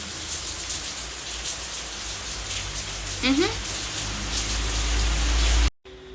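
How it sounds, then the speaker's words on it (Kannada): Steady rain falls outside with a dense, even hiss, while a brief voice rises over it midway. "ಮಳೆ ಬರ್ತಿರೋದ್ರಿಂದ ಒಳಗೂ ಈಚೆಗೂ ಓಡಾಡೋಕ್ಕಾಗಲ್ಲ"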